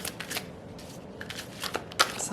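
Tarot cards are shuffled by hand, a close series of soft riffles and brushing slides with small snaps, steady and unhurried with no talking.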